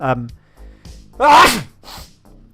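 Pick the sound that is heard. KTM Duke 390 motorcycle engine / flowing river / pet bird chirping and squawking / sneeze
sneeze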